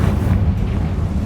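Confringo fire spell exploding in Hogwarts Legacy, a dense low rumbling blast that holds steady and loud through the whole moment, with a rough roar spread across the range and no voices.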